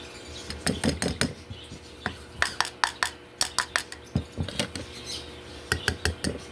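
Spoon or utensil scraping and clinking against a bowl while mixing homemade soft food for pet birds, in quick irregular bursts of taps and scrapes, close and moderately loud.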